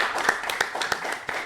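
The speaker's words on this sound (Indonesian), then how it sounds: "Tepuk tangan dulu." A few people clap by hand in a small room during a casual podcast, a brief, sparse, uneven run of claps that is fairly quiet and close.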